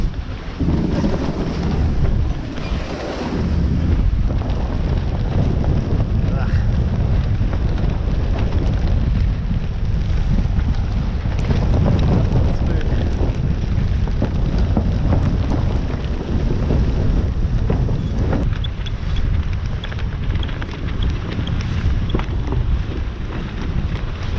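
Strong wind roars and buffets across the microphone on a single-handed sailboat sailing upwind around Hook Head, Ireland, with water sloshing underneath, loud and continuous throughout.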